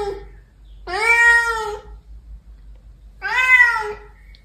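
A house cat at a cat flap gives two clear, loud, drawn-out meows, about two seconds apart, in an otherwise quiet indoor space.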